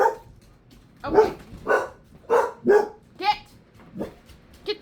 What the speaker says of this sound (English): they're barking at themselves.